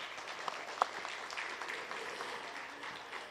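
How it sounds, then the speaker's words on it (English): Audience applause at the Southern Delmarva Economic Forecast event at Salisbury University, a steady wash of clapping from a crowd with a few sharper individual claps standing out, moderately loud throughout. "how about a round of applause for Beacon and the Perdue School?"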